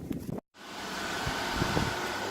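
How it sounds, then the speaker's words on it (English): Air conditioning in a server room gives a steady, even broadband whoosh that fills the space, preceded by a short burst of handling noise and a brief silent gap. "which you can probably hear the AC for"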